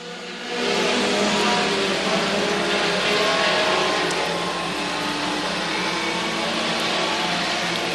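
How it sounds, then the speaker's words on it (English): A field of sport compact race cars takes the green flag for a feature race at the Hillbilly 100, their engines swelling into a sustained, blended roar that holds steady throughout. "Sport Compact's getting ready for their feature race. Green flag is in the air."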